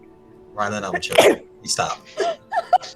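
A single sharp sneeze bursts out among a few people talking casually nearby, short and fairly loud against the chatter.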